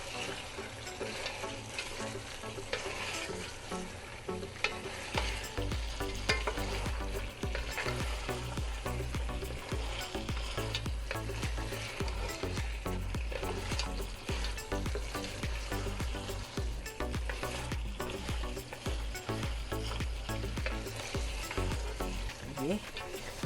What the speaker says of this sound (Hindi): बस 2 मिनट हम इन्हें तेज़ तेज़ हाथों से भूनते हैं